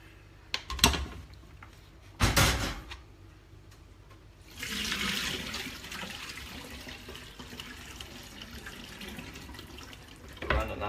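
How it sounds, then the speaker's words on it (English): Cold tap water pours over cooked rice noodles in a strainer, starting with a few clanks and knocks, then a steady splashing flow from a kitchen faucet that runs on to the end. "Run it under some cold water to stop it cooking, some cold water."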